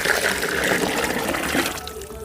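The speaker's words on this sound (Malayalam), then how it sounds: "ഈ സ്ലറിയും കൂടി നമ്മൾ ഇതിനകത്തോട്ട് ഒഴിക്കുക" Soaked green gram slurry pours steadily into a poultry feed mix, a continuous wet gushing and splashing close by that tapers off at the end.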